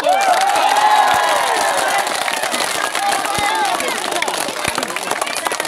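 A dense crowd at an employee protest against layoffs at PT Sil-Sip cheers and shouts continuously, loud and close, with rising voices layered over constant clapping and crowd noise.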